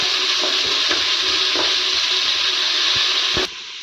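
Onions sizzle and fry steadily in a hot pan for a biryani, a continuous close crackle with a few soft stirring knocks, cutting off abruptly at the end.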